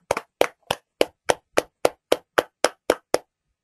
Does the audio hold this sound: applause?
yes